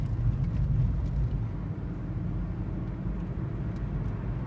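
Steady engine and road rumble from inside a salvage 2012 Nissan Altima Coupe 2.5 S with a damaged right front strut, a continuous low droning hum that stays even throughout, with no talking.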